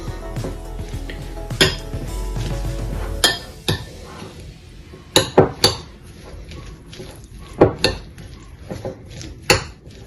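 Ham, leek and three spoonfuls of sauce are stirred together in a bowl for a layered salad, producing a series of crisp, close clinks and scrapes of a utensil against the bowl at an uneven rhythm.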